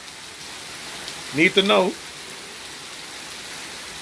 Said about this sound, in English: What a stormy day, okay? Rainy, stormy day, okay?